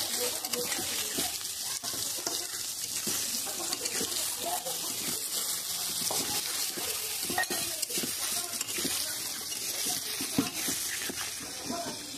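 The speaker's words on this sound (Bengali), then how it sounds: "পেঁয়াজ আলু একসাথেই ভেজে নিলে খুব ভালো" Onions and potatoes frying together in oil in a home kitchen pan, a continuous close sizzle broken by repeated scrapes and knocks of stirring, with a voice talking over it at times.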